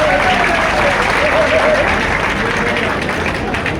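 Audience applause at a state-level artists' conference in a large crowd, loud and steady throughout with a dense wash of clapping and faint voices mixed in.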